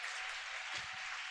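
Church congregation at a worship service applauding the Lord, a steady wash of many hands clapping, fairly distant and soft, with a brief low voice rumble partway through.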